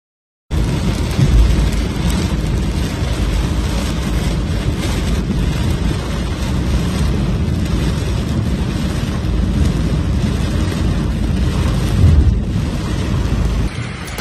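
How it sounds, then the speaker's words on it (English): Powerful storm over Sicily, with torrential rain pouring down steadily under strong winds and rolling thunder, a dense continuous roar that swells briefly near the end. "A powerful storm hit Sicily, plunging part of the Italian island into chaos as torrential rain, strong winds and flash floods swept through the gray skies"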